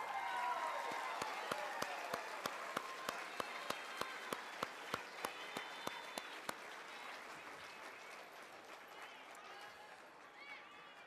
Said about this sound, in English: All right, how about one more round of applause for our elementary students?